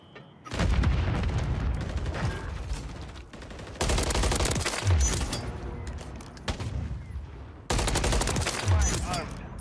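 Gunfire erupts in a first-person shooter video game. Three loud bursts of rapid automatic fire arrive in quick succession, each a dense crackle with heavy booming low end, separated by short gaps, with no talk over them.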